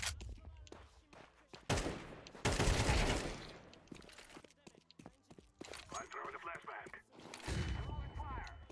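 Gunfire in a video game, with bursts of shots and rapid volleys cutting in and out among footsteps and other game noise, mixed with people talking.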